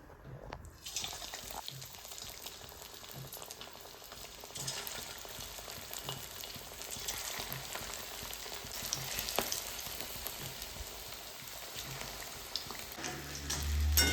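Fish pieces fry in hot oil in a pan for a fish chilli recipe, a steady soft crackling sizzle that grows slightly louder, ending with a brief low thump, with no talking.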